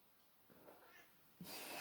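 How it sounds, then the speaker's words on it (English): A cat meows once or twice, faint and a little distant, in an otherwise quiet room, with a louder rustling burst at the close. "As you already heard, there is a cat."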